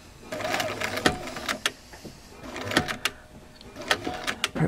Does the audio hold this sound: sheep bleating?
no